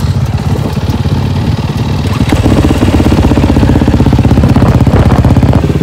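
A Honda motorcycle engine warms up and revs, a loud, steady close-up rumble with rising throttle blips and mechanical clatter that carries on without pause.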